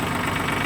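A Mitsubishi MT15 4WD compact tractor idles close by with a steady, dense, rough engine rumble and no breaks.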